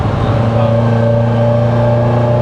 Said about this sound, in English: Revving her out.